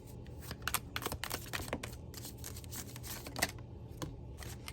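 Rapid papery flutters and riffling bursts of large tarot cards being shuffled in portions, close by, in several uneven runs with brief pauses between.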